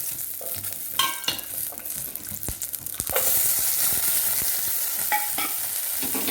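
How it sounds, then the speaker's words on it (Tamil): Green chilies, garlic, ginger, cinnamon, cloves, fennel, cardamom and sliced onions sautéed in a pan for white mutton gravy. Scattered clinks and scrapes rise into a loud, steady close sizzle once everything goes in, with no talk. "அடுத்தது இதை ரெடி பண்ணி வச்சுருக்கிறது இது எல்லாத்தையும் போட்டு ஒரு வதக்கிக்கலாம்"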